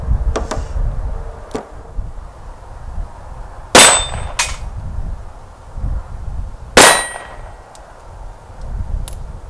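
Rimfire .22 rounds from a Ciener conversion kit striking steel plates: a few faint pops, then two loud ringing clangs a few seconds apart with fainter impacts between, outdoors with no talk.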